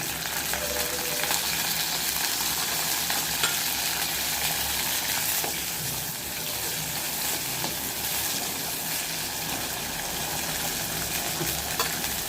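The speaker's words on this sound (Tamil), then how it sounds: "இப்போது ஒரு மண்சட்டியில் நல்லெண்ணெய் சேர்த்துருக்கேங்க நம்ம இந்த கத்திரிக்காயெல்லாம் வதக்கி எடுத்து வச்சுக்கலாம்" Eggplants sautéing in sesame oil in a clay pot give a steady, broad sizzle with soft stirring scrapes throughout, close and continuous, with no talking.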